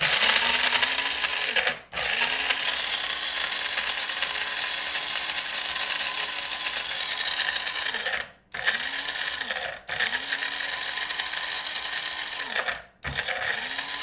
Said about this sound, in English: It's a coffee grinder.